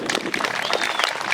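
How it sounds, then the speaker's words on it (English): An outdoor crowd at the Old Fort Erie War of 1812 memorial event gives reenactor volunteers a brief burst of applause, with a voice mixed in. "a round of applause for our reenactor volunteers"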